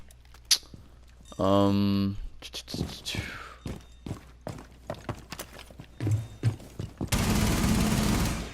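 Bearing 9 machine pistol fire in Rainbow Six Siege, with a short loud automatic burst early on, scattered single shots and thuds, footsteps, and a dense, noisy spray near the end.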